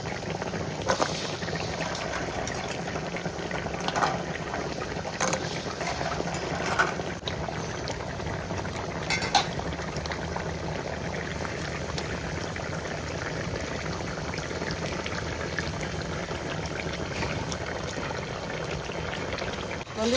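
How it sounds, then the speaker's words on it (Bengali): Keora fruit simmers in a pot of hot water, giving a steady bubbling boil with soft gurgles and a few sharper pops, fairly faint and continuous throughout, with no talking. "জল গরম হয়ে গেছে বন্ধুরা আমি এখন কেওড়া সেদ্ধ বসাই দেব"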